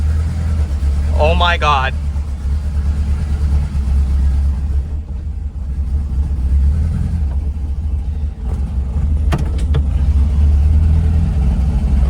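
A project car's engine idles in a steady low rumble as the transmission is shifted from neutral into drive, with a person briefly exclaiming over the running motor.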